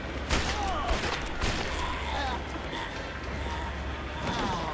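Gunfire in the Western video game Red Dead Revolver, a burst of sharp shots crackling early, then scattered bangs over the game's ambient noise, with someone talking over it.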